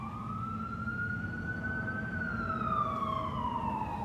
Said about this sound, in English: it sounds like we have a fire truck going by.